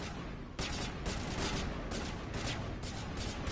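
Rapid bursts of gunfire from the video game Mass Effect Legendary Edition, a dense run of sharp shots coming in clusters across the whole stretch, loud and continuous with no talk over it.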